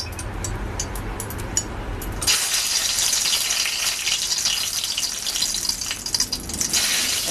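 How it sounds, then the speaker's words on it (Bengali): Dried red chillies drop into hot oil in a wok for a Bengali moong dal cooked with a fish head, and a sudden loud, hissing sizzle bursts out and holds steady after a quieter lead-in. "তেল গরম হয়েছে, আমি এবার দিয়ে দেব শুকনো লঙ্কা।"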